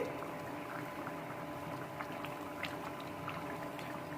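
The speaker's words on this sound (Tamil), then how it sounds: "கனவா மீன் கொதிக்க ஆரம்பிச்சிருச்சு" Soft, steady bubbling of squid curry simmering in a pot on the stove, with occasional small pops over a low background hum.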